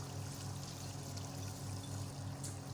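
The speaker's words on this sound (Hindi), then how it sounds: "तो अब हम इसमें अपनी दाल ऐड कर देंगे" Dry mash (urad) lentils pour into fried masala in oil for a dal mash, heard as a soft continuous rushing with a faint sizzle over a low steady hum, quiet and without voices.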